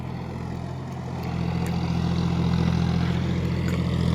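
A John Deere 5050D GearPro 4WD tractor works paddy fields with its diesel engine running steadily, a constant low throbbing drone that grows slightly louder partway through, with no talk over it.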